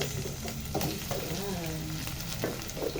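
Carrots and potatoes sizzle and fry in a pan of chicken curry with garlic, a steady close crackle broken by scraping stirs, with no talk.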